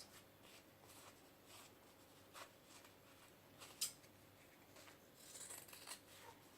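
Fabric for a knotted bow is trimmed with scissors, producing faint, intermittent snips and rubbing scrapes up close over a low steady room hum.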